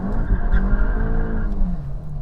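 A 2024 Volkswagen Mk8 Golf GTI with a Stage 1 tune pulling hard in first gear, loud in-cabin engine drone with rising harmonics and some tire noise, steady and close.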